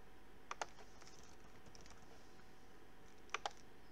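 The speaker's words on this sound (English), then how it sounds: "let's put chinello. I can type that out." Computer keyboard typing in a quiet room, two short pairs of crisp clicks, one near the start and one near the end, soft and close.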